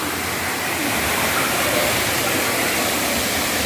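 Balongbong Falls in Bato, Catanduanes, roars as a steady, dense rush of falling water heard up close, filling the whole stretch without a break.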